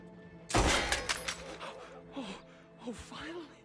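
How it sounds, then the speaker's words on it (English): In Red Dead Redemption 2, a loud close gunshot bursts into a crash of breaking chains with a metallic clatter that trails off, followed by soft gasps and brief voices. "Shoot the chains."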